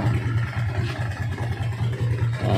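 Honda Click 150 scooter fitted with an MT8 exhaust idles close by, a steady low pulsing burble with a regular throb and light mechanical clatter.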